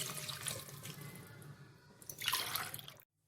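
Water from a measuring cup is poured into a pot of sambhar, a steady splashing pour that swells to a louder gush near the end before stopping abruptly into silence.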